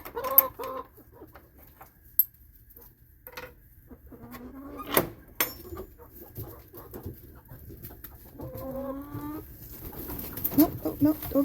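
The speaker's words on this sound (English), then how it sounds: "feed the chickens a little snack first." Backyard chickens in a small flock of fourteen cluck and coo in short, scattered bursts, fairly faint and intermittent against a quiet outdoor background.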